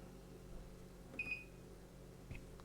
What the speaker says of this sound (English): Now the noodle maker is on.